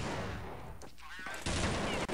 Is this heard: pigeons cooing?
no